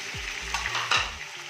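Pieces of meat and chicken fry in a hot pan while being stirred, a close, steady sizzle broken by scraping movements of the spoon, with no one speaking.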